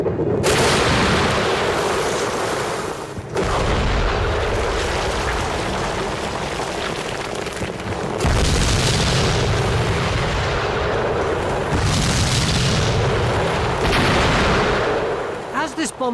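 A Second World War-style bomb is set off in a wartime blast test on a reconstructed street, giving a loud sustained explosive roar that rolls on with repeated heavy surges and rumbling debris, with a voice speaking over it at times.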